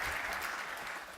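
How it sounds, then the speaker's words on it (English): A conference audience gives a short, faint burst of steady clapping as a panel guest is welcomed on stage. "Warm round of applause for you"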